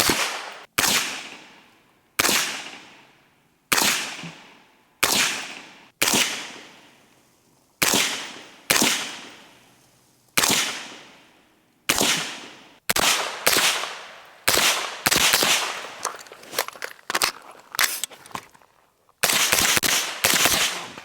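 Rifle shots fired through a Resilient Jolene S suppressor, about fifteen sharp suppressed reports spaced a second or so apart, loud and close, with a short decaying tail after each one.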